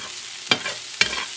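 Smoked paprika stirred in a hot frying pan for pork shoulder in red wine, two quick scraping strokes of the spoon over a faint continuous sizzle, close and with no talk.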